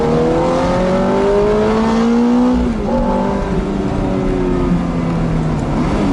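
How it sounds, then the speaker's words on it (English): A Ferrari V8 engine revving hard at a supercar event, loud and close, its pitch climbing in sweeps that drop and climb again through gear changes. "the noise of this V8 is absolutely amazing"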